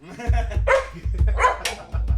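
Dog barking and growling indoors during a live music stream, several sharp, close barks with low growly rumbles between them, loud and bunched into a short outburst.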